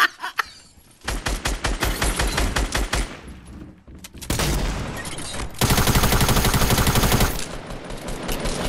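Rapid automatic gunfire in a shooting video game, several loud sustained bursts separated by short pauses, close and dominant with no talk over it.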